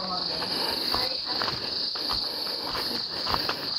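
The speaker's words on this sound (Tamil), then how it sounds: "அந்த வண்டு சத்தம் பறவைகள் சத்தம் தான் கேட்குது." On a quiet hillside in Riverston, Sri Lanka, insects keep up a loud, continuous high-pitched chirring drone nearby, with faint rustling beneath it.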